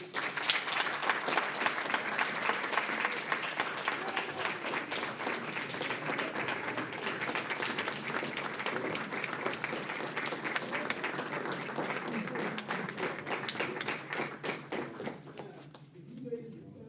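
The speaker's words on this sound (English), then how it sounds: "let's get a round of applause." A round of applause at a city commission meeting, many hands clapping steadily for about fifteen seconds at moderate level before tapering off, with some faint talk mixed in.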